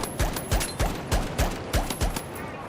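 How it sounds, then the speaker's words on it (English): Hip-fire bursts from .50 Akimbos pistols in a video game, six sharp regular shots about every third of a second, loud and close with short mechanical ring after each. "When they're close range, I like to do hip fire"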